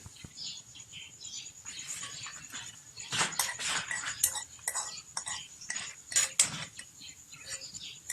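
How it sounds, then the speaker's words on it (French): Sautéed onions being stirred into beaten eggs in a bowl, a steady run of utensil scraping and clinking against the bowl, close and fairly loud, with brief sharper knocks throughout. "Et nous allons maintenant mélanger ça avec les œufs."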